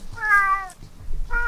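A cat gives two clear meows close by, a longer one followed by a shorter one after a brief pause, with little else around.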